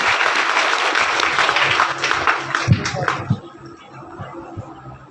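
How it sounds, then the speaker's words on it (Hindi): Loud applause from a gathering welcomes an SDM official at a village tree-planting event. Dense clapping fills the first few seconds, then breaks into a few scattered claps and stops. "एक बार जोरदार तालियों से सर का स्वागत किया जाए"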